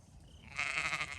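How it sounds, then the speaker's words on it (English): Sheep bleating outdoors on a foggy morning, a raised, sustained bleat rising from the second half of the short clip over quiet ambient noise, fairly close and clear. "I can't see the sheep because it's so foggy outside"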